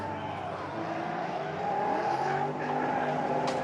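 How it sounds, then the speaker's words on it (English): A drift car on track at Owosso Speedway during a Michigan drifting event, its turbocharged engine droning steadily and swelling louder as the tires squeal through a slide, with a brief sharp hiss near the end. "I love hearing the turbo noise is a good one."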